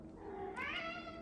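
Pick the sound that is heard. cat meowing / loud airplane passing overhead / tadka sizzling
cat meowing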